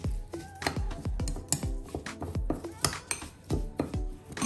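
A spoon or spatula mixes wet and dry granola ingredients in a bowl, giving close, repeated clinks and scrapes against the bowl in an uneven rhythm.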